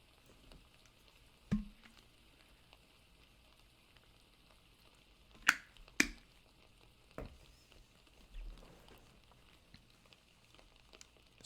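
Soft, steady patter of rain in a background ambience, low and even throughout, broken by a few brief sharper knocks and clicks scattered across the stretch.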